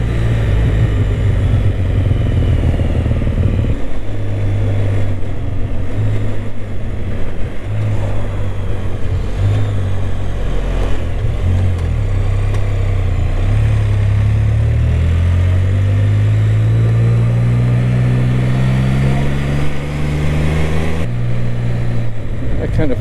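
A Can-Am Spyder three-wheeled motorcycle being ridden near a downtown area, its engine humming loudly and steadily with pitch rising and falling as it speeds up, along with rushing wind noise.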